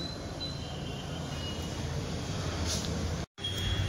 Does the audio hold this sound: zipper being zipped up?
no